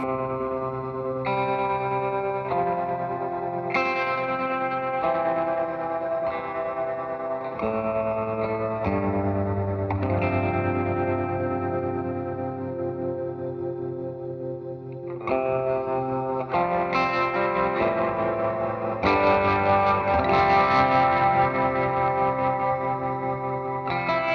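A guitar plays slow, sustained chords through a wavering tremolo and wide reverb, each chord shimmering and ringing out in a spacious wash.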